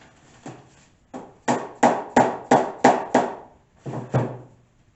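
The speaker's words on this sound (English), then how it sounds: "So I'm continuing to use the plastic wedges and the dead blow hammer and work my way around methodically" Dead blow hammer striking plastic wedges to free a nose bowl mold, about ten solid thuds in a quick irregular rhythm, close and loud, with a short pause before the last few blows.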